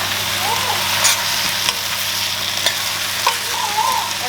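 Potatoes sizzle and fry steadily in a pan for karale, with onion and bitter gourd, making a continuous crackle that stays close and even, while a spoon stirs and scrapes through it in a few brief clinks.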